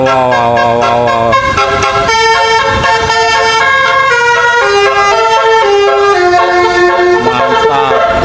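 A Gusti Trans bus plays its telolet horn at length, loud and near, a shifting musical tune of layered tones changing every second or so over a low vehicle rumble.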